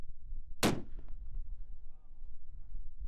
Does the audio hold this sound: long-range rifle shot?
yes